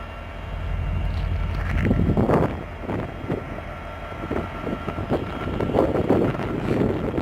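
Diesel train locomotive revving up at the Winnemucca depot, a loud low engine rumble that swells and holds with wind buffeting the microphone nearby.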